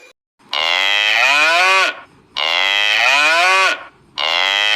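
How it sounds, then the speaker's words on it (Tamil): A Jersey cow animal toy gives three long, loud, drawn-out moos in a row, separated by brief silences. "நான் இப்படிதான் கத்துவேன். நான் தான் ஜெர்சி பசு பேசுறேன்."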